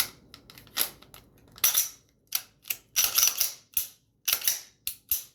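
A pistol being put back together, barrel and recoil guide rod fitted to the receiver, giving a string of sharp metallic clicks and snaps at uneven intervals, close and fairly crisp, with no talking.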